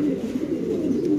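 Spanish pigeon cooing steadily in a low, throaty warble, close and continuous with a soft rolling rhythm across the whole moment.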